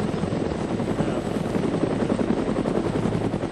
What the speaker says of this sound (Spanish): Todos al helicóptero.